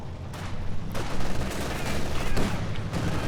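Rapid machine gun bursts and scattered gunfire in a war strategy video game, heard as repeated dense rattling volleys over continuous battle noise.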